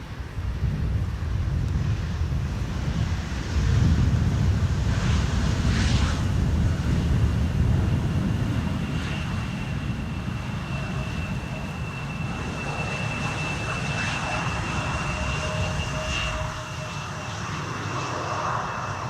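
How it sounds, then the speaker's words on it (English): A KLM Embraer 175 jet arriving on runway 18R at Schiphol gives a steady, loud engine roar with a rushing broadband whine, mixed with outdoor wind buffeting the microphone throughout. "So this is KLM flight 1174. It's an Embraer."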